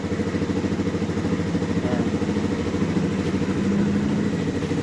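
A Rusi Flash 150 Fi motorcycle engine idles steadily up close, a loud, even, low putter with light mechanical clatter running throughout, no voices.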